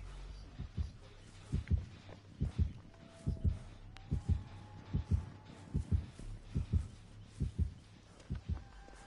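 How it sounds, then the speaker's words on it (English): A horror video game plays the looming heartbeat of an approaching killer, a steady deep double-thump pulse repeating about once a second, with faint game ambience and no talk. "I hear his heartbeat. He's coming back."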